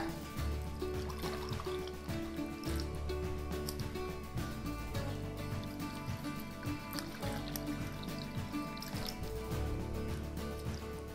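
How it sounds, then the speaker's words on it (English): Water poured into containers of ranunculus corms: a continuous trickling and splashing of liquid filling several vessels, with short breaks and bumps between pours, heard close and fairly quiet with no talking. "I'm going to fill them up with water"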